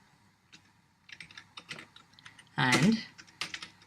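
Keys clatter on a computer keyboard while code is entered, a light run of scattered taps through the clip, interrupted by a short spoken word in the middle.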